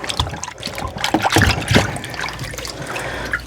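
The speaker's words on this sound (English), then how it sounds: "I'm going to continue just dipping this in." A half yard of yellow quilting fabric is dipped into liquid starch, giving close, uneven sloshing, dripping and trickling liquid sounds that rise and fall.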